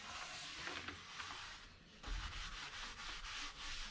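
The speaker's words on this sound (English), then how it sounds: "just to get the fine dust off of the wood" Fine sanding dust is wiped off an already sanded wooden vanity panel with steady back-and-forth rubbing strokes, a close, soft, hissing scrubbing that continues without pause and without speech.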